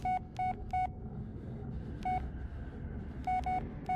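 Seven short touch-tone beeps from a phone keypad while dialing to reach voicemail in the Blair Witch video game, arriving as three quick tones, a lone tone, then three more, all clear over a low background rumble.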